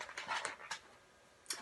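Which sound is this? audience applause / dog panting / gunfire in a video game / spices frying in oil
dog panting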